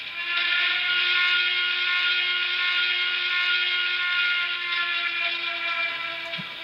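A steam whistle sounds from a Broadway Limited C&O J3a 4-8-4 model steam locomotive with Paragon 3 sound, one long steady chime-like blast held for about six seconds, close and clear.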